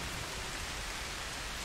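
Steady heavy rain in the Bigfoot video game, a dense, even hiss of downpour with no pauses, loud and close.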